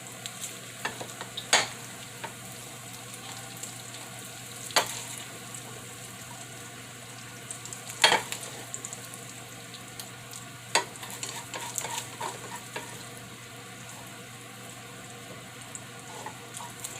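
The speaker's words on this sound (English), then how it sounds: "Let it fry some more." Corned beef hash fries in oil in a Nomex skillet, a steady close sizzle with occasional sharper pops and spatula scrapes, no talking.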